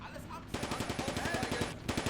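Rapid bursts of tank and infantry gunfire in the tactical war game Combat Mission 2, with dense repeated shots starting abruptly after a quiet moment and continuing in an uneven, rattling rhythm.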